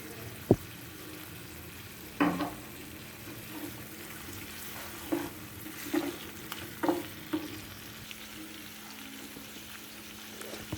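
Ingredients with red chili tomato sauce stirred in a pan for crispy chilli babycorn, a soft ongoing sizzle broken by irregular scraping knocks of a spoon against the pan, close up with no speech.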